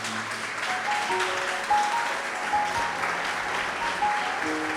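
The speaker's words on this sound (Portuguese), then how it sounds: "Dê um aplauso a esse Jesus que está vivo." Congregation at an Easter Sunday church service applauds in a steady, sustained patter of many hands, with faint musical tones underneath.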